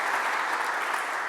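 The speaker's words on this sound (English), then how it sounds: "Won't you clap for our ladies?" An audience at an ocean conference opening session claps in a brief, steady burst of applause from many hands.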